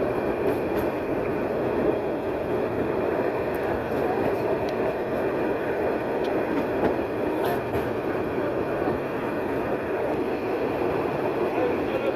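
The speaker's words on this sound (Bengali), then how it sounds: "এই যে দেখুন একেবারে ভবনের চিপা দিয়ে ট্রেন চলছে" A Narayanganj commuter train running through a narrow lane between buildings in the Saidabad–Jatrabari area of Dhaka, a steady loud rumble of wheels and carriages with faint clicks throughout.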